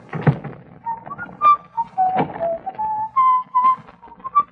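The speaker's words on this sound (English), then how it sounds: "You whistle like a canary" Someone whistles a short, bird-like tune in clear, bright notes, broken by two dull thunks like a door knocking shut.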